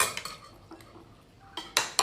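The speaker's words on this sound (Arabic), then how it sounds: "يا عيني على طرطقة الصحون." Dishes and cutlery clattering at a family dinner of stuffed vegetables, a few sharp close clinks and scrapes of plates and spoons, the loudest bunched near the end, with no talk.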